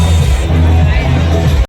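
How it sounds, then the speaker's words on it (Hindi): A crowd gathers at the Nehru Art Gallery exhibition, close by, in a dense, continuous babble of many overlapping voices that cuts off abruptly at the very end. "संगवारी हो भीड़ लगना स्टार्ट हो गई यहाँ पे।"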